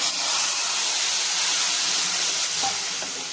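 Hot tempering hits ajwain porridge with a steady, bright sizzle that holds evenly and fades slightly at the end. Nothing else is heard.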